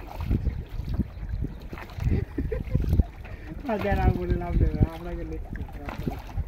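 Water splashing and lapping around a fishing boat moving on a river in India, with wind buffeting the microphone and voices speaking over it.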